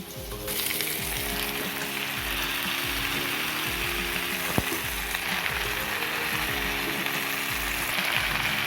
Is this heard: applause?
no